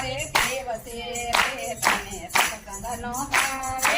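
Rhythmic hand clapping keeps time with a devotional satsang song sung by a women's satsang group, bright sharp claps landing in a steady beat over the singing voices.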